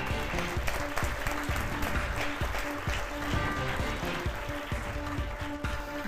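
Steady audience applause at an evening leadership awards ceremony in a hall, many hands clapping continuously and fairly close, without breaks.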